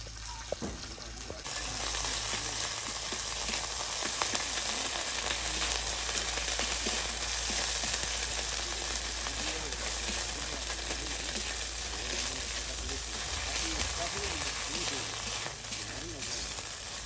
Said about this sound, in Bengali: চেপা ভাজা হয়ে গেছে